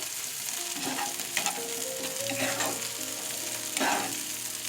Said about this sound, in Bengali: চিংড়ি মাছটা দিয়ে আমার ভাজা হয়ে গেছে